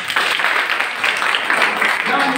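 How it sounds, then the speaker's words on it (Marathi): Brief, steady clapping from an audience of young women at a youth empowerment camp, dense and fairly close, lasting the whole short moment. "टाळ्या वाजवा."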